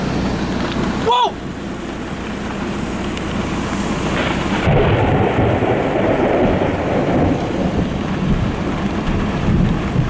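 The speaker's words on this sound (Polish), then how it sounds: "O, piorun." Thunder during a heavy thunderstorm over the Podhale region. Loud rumbling rolls over the constant roar of pouring rain and wind buffeting the microphone.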